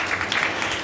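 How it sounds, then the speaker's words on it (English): An audience at a live marketing talk applauds, a brief burst of many hands clapping at once, moderately loud and dense. "round of applause for"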